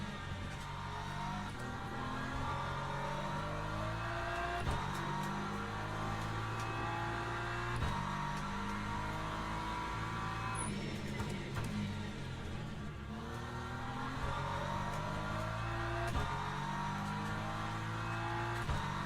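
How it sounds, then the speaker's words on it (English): Engines of LMP2 prototype race cars drone and rise in pitch in a racing game at Sebring, layered with the player's own car's steady motor whine, shifting through gears over a continuous hum without talking. "Here comes some LMP2s"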